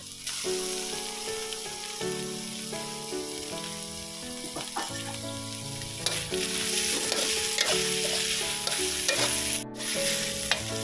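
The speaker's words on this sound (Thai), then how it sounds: "พอผัดหอมแล้วก็เริ่มใส่กระชายนะครับ" Fingerroot stir-frying in a hot wok for a spicy fried giant catfish dish, a steady close sizzle with scraping stirring strokes, heard under loud background music without talk.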